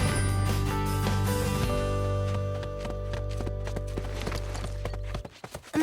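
Horse hooves trot in a steady clip-clop rhythm in an animated French cartoon about horse riding, set under a sustained music bed that cuts off near the end.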